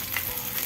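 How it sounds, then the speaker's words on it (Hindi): Mustard seeds and chopped sambar onions frying in hot oil, a steady close sizzle with fine crackling running through the whole short moment, no voices. "ऑयल गर्म हो चुका है, थोड़ा सा राई डालना है। अभी कट करके रखा सांभर ओनियन डालना है,"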